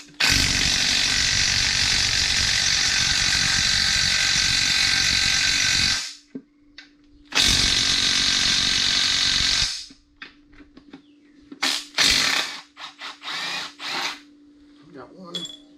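A power ratchet buzzing on bolts of a burnt-up SRT-4 transmission: a long, loud continuous whir, a pause, a second shorter run, then several brief spurts with some talk, close up.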